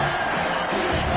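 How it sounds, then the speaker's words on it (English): A football stadium crowd roars on third down, a loud dense wall of cheering and shouting that swells steadily with no pauses. "Decibels rising as the crowd gets behind this defense on 3rd down."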